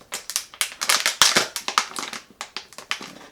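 Scissors stab into a plastic water bottle held firmly, producing a rapid series of sharp, close crackling crunches of plastic, uneven in rhythm and alone.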